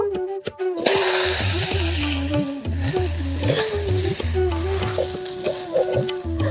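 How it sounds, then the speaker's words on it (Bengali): Potatoes frying in oil sizzle up close, broken by scraping stirs and clinks of a utensil against the pan, with a low hum underneath. "ডিম ভাজার তেলেই আলুগুলো ভেজে নেব"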